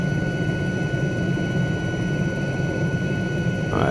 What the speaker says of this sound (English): But low level flying with a helicopter is so much fun,